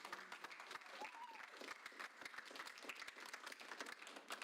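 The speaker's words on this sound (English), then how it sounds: "So can we give them all a big round of applause?" A crowd claps steadily and densely throughout, a warm continuous wash of applause with a faint voice briefly audible underneath.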